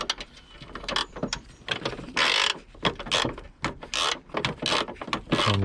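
A 10mm bolt is undone on a Peugeot 407 2.0 HDi diesel engine, with quick bursts of close mechanical ratcheting clicks and short metallic scrapes in an uneven rhythm.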